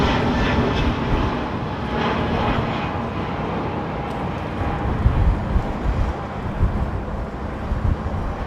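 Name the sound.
ATR turboprop aircraft at London Heathrow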